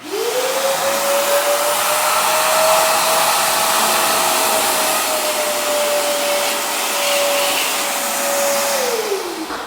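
A steady, loud whining vacuum motor drone with broadband rushing noise as it sucks water from a toilet, running continuously for about nine seconds before winding down; no voices.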